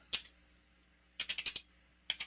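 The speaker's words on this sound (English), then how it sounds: "all I have to do is type in http://" Someone types a web address on a computer keyboard: a single short keystroke cluster, then a quick run of about five crisp taps, then two more, close and clear with no voices.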